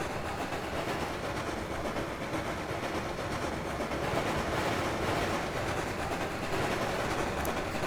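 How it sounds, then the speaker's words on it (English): A geared Climax steam locomotive in the Trainz 2019 simulator chuffs in a dense, steady, throaty roar with a faint repeating beat, continuous and fairly loud. "The chuff rate will sound really off for a geared locomotive, but it sounds pretty good."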